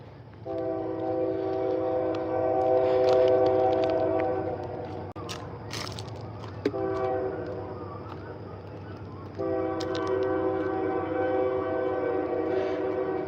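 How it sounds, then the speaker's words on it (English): A train horn blows in long, steady blasts, three separate times, over the continuous low rumble of a train rolling past. "There's a train coming."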